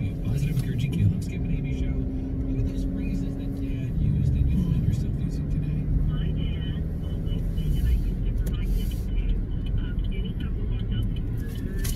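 Inside a moving car, a steady engine and road rumble runs throughout at an even level with no breaks.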